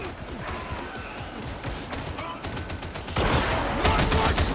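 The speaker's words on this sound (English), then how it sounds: "Suppressing fire!" Rapid suppressing gunfire in the video game Darktide, a dense continuous fusillade of close shots that grows louder and denser toward the end.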